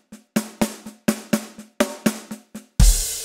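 Drums play a short accent pattern, a string of crisp hits of varying loudness with uneven spacing, finishing on a bright, sustained cymbal crash.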